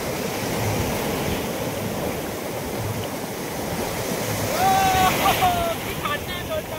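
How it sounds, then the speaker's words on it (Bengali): Big sea waves roll onto Gopalpur beach in a steady, loud surf roar with heavy wind buffeting the microphone, swelling louder near the end, while voices are faintly heard. "এই কাছেই দেখো কি বড় বড় ঢেউ"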